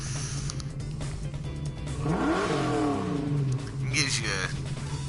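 A Ford Mustang Mach 1 engine revs in the Gran Turismo Sport racing game, a rising then falling roar climbing in pitch and easing off over a steady low drone, loud and close.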